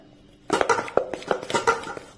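A spoon mixes dhokla batter with a little oil in a bowl, giving a quick run of close clinks and scrapes against the bowl after a short quiet start.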